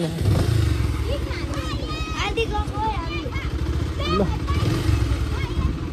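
A motorcycle engine revs and rumbles close by as it rides off, while people chatter and call out goodbyes over the noise.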